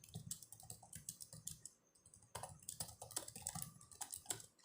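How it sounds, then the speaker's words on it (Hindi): Rapid, uneven keystrokes clatter on a computer keyboard during typing practice, a dense run of close, crisp clicks with a short pause midway, quiet overall with no voices. "तो अब इसको आपको टाइप करना है"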